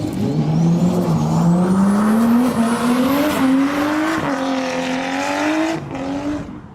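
A 1988–1994 Nissan Safiro A31 Japanese sports sedan drifts with loud, continuous tire squeal over a rising, revving engine whine that climbs steadily, holds near and loud, then fades out at the end.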